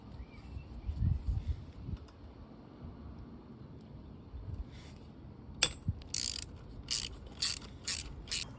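A ratchet undoes a 10mm radiator bolt on a Honda CBR650R motorcycle, faint rumbling handling early on, then a run of quick, crisp ratcheting clicks in short bursts close by.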